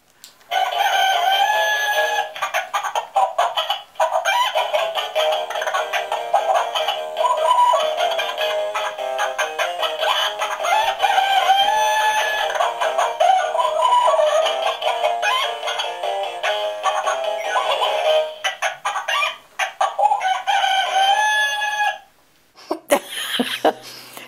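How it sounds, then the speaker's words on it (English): Chickens and a rooster on a farm: repeated loud crowing and busy clucking fill the scene almost continuously, with a short pause and some speech near the end. "And the roosters do this."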